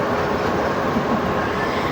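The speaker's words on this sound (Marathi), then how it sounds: "आता मी पनवेलवरून लोकल ट्रेन पकडलेली आहे" Loud, steady rumble of a moving local train from Panvel, heard from inside a carriage, with a constant droning roar and faint rattling of the wheels.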